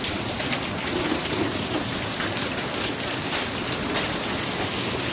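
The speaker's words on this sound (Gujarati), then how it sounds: "વરસાદ ને વીજળી થાય છે હવે તો." Steady heavy rain pours during a windy thunderstorm with hail, a dense continuous hiss of drops on surfaces that stays loud and close throughout, with any thunder buried in the downpour.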